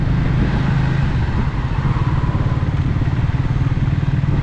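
A Triumph Speed T4 400cc motorcycle is ridden, its engine giving a steady, loud, close rumble with a fast pulsing beat that carries on without a break.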